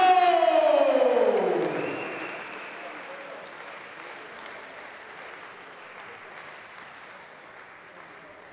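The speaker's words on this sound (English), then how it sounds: "Give a big round of applause" Audience applause and cheering after a boxing match as the winner is announced, starting loud with a descending siren-like tone over the first two seconds, then settling into a steady, sustained clapping crowd that gradually fades lower.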